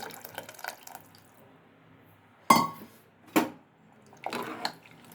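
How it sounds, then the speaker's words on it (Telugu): Tamarind water poured into a lentil and drumstick curry, with a few separate splashy pours and clinks of a vessel against the pot amid quiet kitchen background, no talk. "తాలింపు కూడా వేసేసాను కాబట్టి ఇది చింతపండు నీళ్లు పోసేసుకుంటున్నాను"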